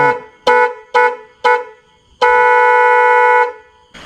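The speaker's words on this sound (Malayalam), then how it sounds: "അപ്പോൾ ഇതാണ് ഞാൻ എക്സ്ട്രാ വെച്ച വണ്ടിയുടെ ഹോണ്." An aftermarket horn fitted to a Bajaj Dominar 400 motorcycle sounds three short loud honks followed by one long sustained blast, close by and alone.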